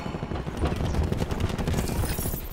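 Rapid gunfire in the Black Ops 4 video game, a dense close burst of overlapping shots rattling over several seconds with no talking.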